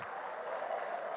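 Church congregation applauding, steady dense clapping throughout that holds level the whole time with no pauses.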